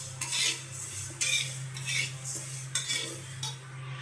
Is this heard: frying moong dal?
yes